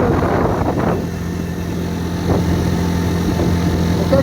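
A Kymco MXU 150 quad engine runs at low throttle, a close, even idle hum with a couple of brief revs near the start and a slight swell midway.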